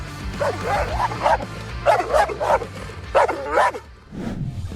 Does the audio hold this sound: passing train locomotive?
no